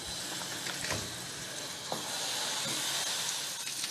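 Pineapple pieces with a garlic clove roasting in a hot pan, giving a soft, steady sizzle and hiss with faint stirring taps, fairly quiet and with no voices.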